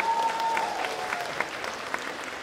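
Audience applause at a festival opening, a steady wash of clapping from a crowd of moderate size, some distance off, with a few sharper claps standing out and a faint tone early on.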